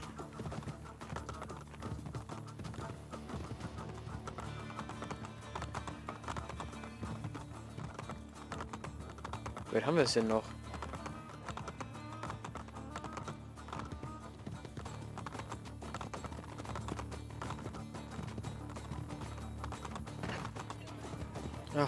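Rhythmic clip-clop of horse hooves running steadily throughout in Assassin's Creed: Brotherhood, with a brief whinny midway and a voice speaking faintly over it.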